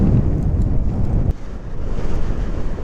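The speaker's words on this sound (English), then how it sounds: "It's very windy today" Strong gusting wind buffets the microphone outdoors on a very windy day, a loud continuous low rumble with one brief dip partway through, no voices.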